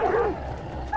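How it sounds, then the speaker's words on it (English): Dogs in the video game Hunt: Showdown whimper and yip in short, close bursts, with a low bow-wow at the start and end. "They're a sorry looking bunch of dogs, aren't they?"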